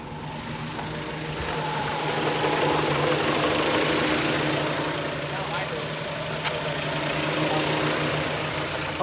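A Honda Prelude with 113k miles, running rich and flooded, idles low at under 1,000 rpm with a steady, quiet mechanical hum and faint vibration, heard continuously for several seconds.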